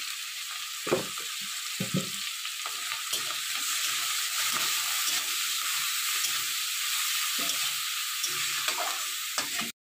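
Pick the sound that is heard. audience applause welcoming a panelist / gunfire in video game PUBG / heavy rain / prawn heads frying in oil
prawn heads frying in oil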